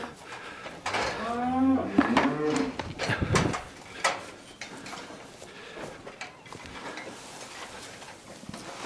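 Cows in a barn at winter feeding time moo loudly several times up close, among metallic clanks and knocks from feed and stall gear, with quieter shuffling afterward.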